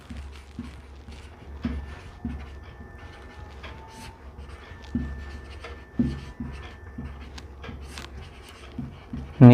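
Pen writing an application on paper, a soft, close scratching in short irregular strokes and taps, with faint background noise and no talking.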